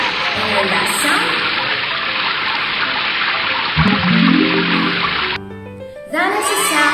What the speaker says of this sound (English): That is the sound of flowing water.